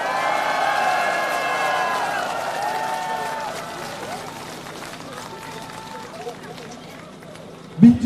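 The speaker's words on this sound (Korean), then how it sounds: "여러분 함성소리, 박수소리 한번 보내주십시오" A street campaign rally crowd outside a Yeouido shopping centre cheering and clapping, a loud sustained burst of shouts and applause that gradually fades, ending with a brief bump near the microphone.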